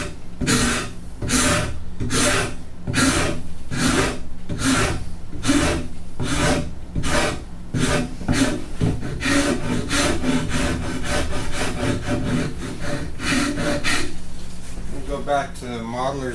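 A hand rasp shaping a wooden guitar neck, carving curves toward an hourglass form: steady rhythmic back-and-forth strokes, close and loud, about a dozen evenly spaced scrapes with no talking.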